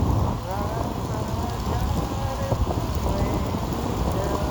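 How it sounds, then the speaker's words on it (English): Steady rain falls while someone rides a Segway electric unicycle, a constant dense hiss of drops and spray close by, broken by a few faint tonal chirps. "Riding in the rain, oh yeah, let's go."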